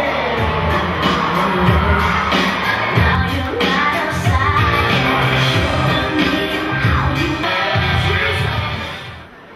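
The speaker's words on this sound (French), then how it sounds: "veuillez accueillir sous un tonnerre d'applaudissements Kim Barley" Crowd at a wrestling gala cheering, yelling and whooping for a wrestler's entrance, a loud, dense roar of voices with scattered bangs that holds steady for several seconds before fading slightly at the end.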